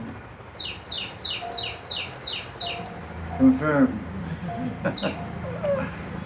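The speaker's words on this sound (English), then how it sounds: "Birds are also listening to the class." Birds sing outdoors during a Sunday spiritual class, with a rapid series of repeated chirps followed by cooing and more calls. People talk briefly over the birdsong.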